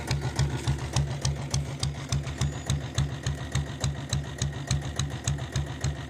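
A 7.5 HP self-start diesel Royal Enfield Bullet engine idling close by, a steady, even thumping beat repeating about three times a second, alone with no talk.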